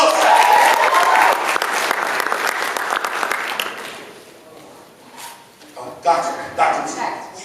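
An audience at a healthcare and education leadership panel in New York gives a round of applause that starts loud and dense, thins out after a few seconds, and gives way to a few scattered claps and a speaking voice.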